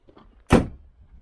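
A side-by-side UTV door, refitted with its door panel and parked slightly uphill, swings shut with a single solid slam, one sharp close and brief rattle standing alone against a faint idle background.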